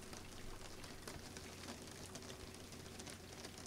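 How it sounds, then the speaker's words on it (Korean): Steady rain in the horror video game Visage patters softly and continuously on a surface, a quiet, even hiss with scattered drop ticks and no voices. "이 빗소리와 함께"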